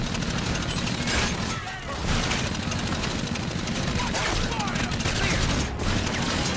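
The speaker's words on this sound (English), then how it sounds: "Oh, I shot Ethan!" Continuous gunfire from the video game Call of Duty: Infinite Warfare, dense rattling bursts filling the whole stretch at steady loudness, with a brief dip near the two-second mark and talk mixed in.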